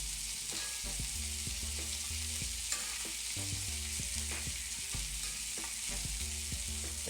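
A rack of lamb frying in rendered lamb fat in a pan while being basted with a rosemary and garlic blend: a steady, dense sizzle with spoon scrapes and light knocks throughout, no voices.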